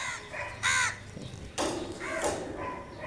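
A crow caws loudly nearby several times, harsh repeated calls with short gaps between them, over faint background noise.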